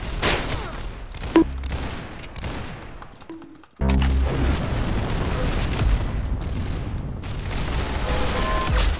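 Rapid gunfire bursts and booms from the Roblox game Arsenal, loud and close, with a brief drop to near quiet before a dense continuous barrage resumes.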